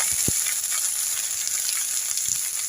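Curry paste stir-frying for spicy catfish in a hot pan gives a steady, close bright sizzle, with a few soft knocks of the spatula near the start and end.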